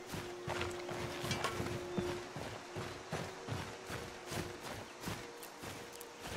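Horse hooves clip-clopping in the video game Skyrim, a soft repeated walking rhythm of hoofbeats over ambient game noise, fairly faint and steady throughout.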